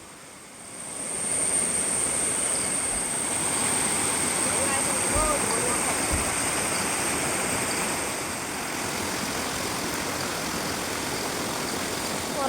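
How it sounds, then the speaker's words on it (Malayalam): A small waterfall roars as a dense, unbroken rush of water, loud and close, holding steady for the whole stretch with only a slight dip in level toward the end. "ഇതാണ് നമ്മുടെ വെള്ളച്ചാട്ടം"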